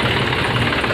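John Deere 5050 D tractor engine labouring under a heavy rotavator, a loud, close, continuous low diesel rumble with a slightly uneven knock, heard alone for a brief second.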